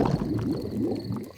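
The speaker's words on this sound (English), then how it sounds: "My tummy rumbling is one of the best sounds of nature." A cartoon pig's tummy rumbles in a low, bubbly, gurgling stretch with wobbling pitch, moderately loud and close, with no talk.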